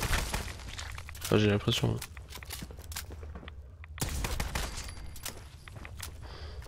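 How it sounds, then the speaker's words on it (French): Video game gunshots strike a wall during a special forces exam, irregular bursts of sharp cracks and impacts, some clustered and some isolated, while someone speaks over part of the firing. "Faites attention, vous tirez dans le mur là."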